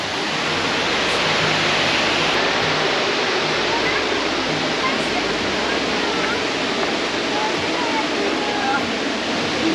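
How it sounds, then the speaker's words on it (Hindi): A waterfall in the Finger Lakes region of New York, running with fairly little water, pours in a steady, loud, close rushing roar that fills the whole stretch without a break. "Man, beautiful waterfall."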